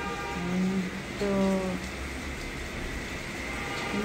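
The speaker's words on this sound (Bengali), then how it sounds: "আর আমি বসে বসে বৃষ্টি দেখছি" Steady rain falls outside a balcony, a constant broadband hiss throughout, with a couple of brief faint tonal sounds near the start.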